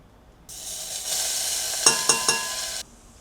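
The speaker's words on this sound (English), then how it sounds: "I'm gonna get this on medium high and then add our oil and garlic" Garlic sizzles steadily in hot oil in a pot over medium-high heat, a bright hissing crackle that starts abruptly and holds, with three quick scraping stirs near the end before it cuts off.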